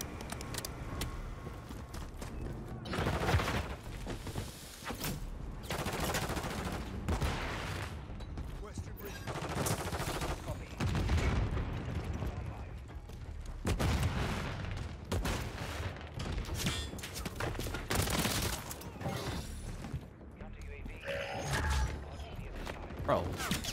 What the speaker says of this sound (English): My sentry gun is going to town right now.